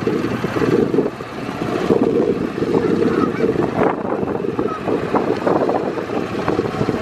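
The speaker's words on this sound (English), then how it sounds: "Y'all better move, geese." Geese honk repeatedly at close range outdoors, loud irregular calls over wind noise on the microphone, with no talk.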